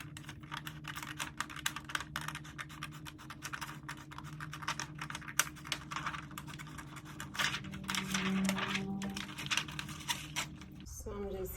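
A paper stencil is cut out along a drawn line without an X-Acto knife, producing a dense run of small snipping and scratching ticks, close and continuous, with a person talking quietly over it.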